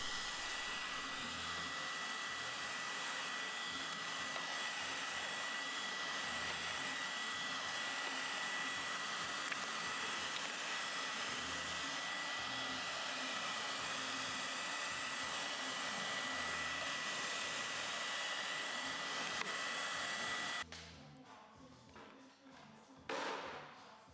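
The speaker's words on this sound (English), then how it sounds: "we use a heat source to help soften and melt the glue without melting the film" A heat gun blows a steady, loud, broadband roar for about twenty seconds while softening the adhesive under paint protection film on a Ferrari Enzo, then cuts off, leaving quieter handling noises and a brief thump.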